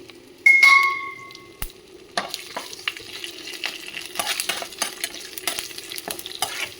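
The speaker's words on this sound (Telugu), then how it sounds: "తాలింపులు అన్నీ వేసి మనం కలిపి పెట్టాలి." A spoon stirs and scrapes through tempering spices sizzling in hot oil for mint chutney, with a bright metallic ping near the start and steady frying crackle throughout.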